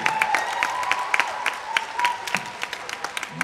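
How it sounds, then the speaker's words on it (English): Powwow crowd at the Enoch Cree Nation gathering claps for the singers, scattered sharp handclaps over a steady murmur with a faint tonal hum beneath, thinning toward the end. "how about a big round of applause to our singers"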